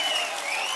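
A crowd at a political rally claps in a brief, steady burst of applause that fills the moment evenly without breaks, with no voices on top.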